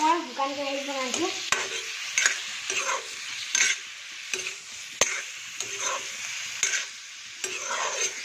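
Pork pieces stirred in a dry wok, with repeated scraping strokes of a spatula against the pan over a light sizzle, close and fairly loud, no talking.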